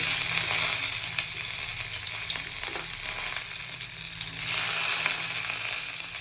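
Chopped garlic and ginger dropped into hot oil in a frying pan, a loud continuous close sizzle that swells at the start and again near the end, with light stirring and no talking.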